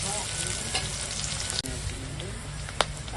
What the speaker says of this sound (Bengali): তো পেঁয়াজটা ভেজে নিই